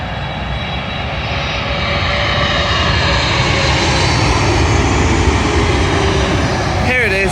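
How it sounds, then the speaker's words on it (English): An American Airlines Boeing 777 arriving from JFK lands at London Heathrow runway 27L, its loud jet engine roar steady and close throughout. "Arriving in now is an American Airlines Boeing 777 from JFK,"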